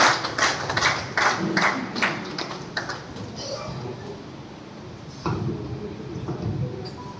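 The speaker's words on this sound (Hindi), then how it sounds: "उनके सम्मान में एक जोरदार ताली बजाएंगे" An audience claps loudly in honour of retired principal Munnalal Kange at an RCM direct-selling meeting in Maihar. A burst of dense clapping fades after a few seconds, then another swell follows, with voices mixed in.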